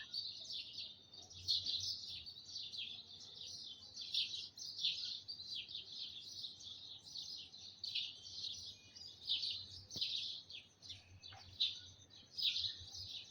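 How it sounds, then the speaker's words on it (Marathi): Many birds chirp and tweet continuously at dawn in a high, busy chorus, fairly distant, in an otherwise quiet outdoor setting. "पक्ष्यांचा आवाज येते."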